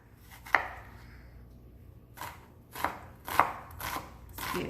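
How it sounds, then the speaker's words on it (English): Knife chopping the second half of an onion on a board for chicken gumbo: a few sharp, separated chops spaced irregularly, close and fairly clear over faint background hiss, no talking. "And then I'm going to cut the other half of the onion."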